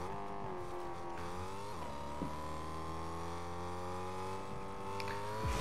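A car driven in the video game Fortnite: a steady engine drone that holds a constant pitch, dips and shifts briefly around the middle, then runs on evenly, with no talking.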